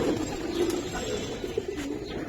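A Giribaz pigeon from Narayanganj cooing close by, a few soft low throaty coos repeating over a faint background hiss.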